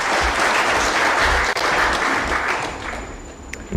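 Sustained applause from an audience at the launch of an electoral commission's post-election evaluation report, a steady dense clapping that holds loud and even for nearly four seconds before easing slightly at the end.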